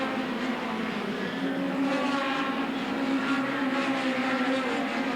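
Hot rod race cars racing at Northampton in 1985, several engines droning and revving together in a sustained, slightly distant roar.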